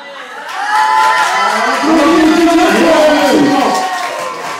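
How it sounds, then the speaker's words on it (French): A concert crowd in Toulon roars with loud cheering and applause after a joke, a dense, steady wash of noise lasting several seconds with shouts mixed in. "on applaudit bien fort"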